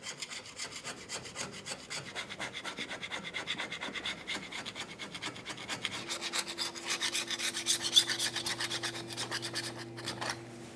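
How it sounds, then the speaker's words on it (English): A scraper works debris off the rear axle housing of a 1999-2006 Chevrolet Silverado 1500 in fast, rhythmic rasping strokes that run steadily throughout, close by and unaccompanied by speech. "You could use a scraper for this and just remove as much of the excess debris along the outside portion as possible."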